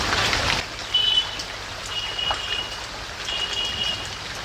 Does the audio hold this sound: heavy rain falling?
yes